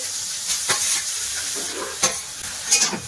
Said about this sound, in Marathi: आपल्याला 1-2 मिनिटं तुपामध्ये हा जो गाजरचा पीस आहे तो परतवून घ्यायचा आहे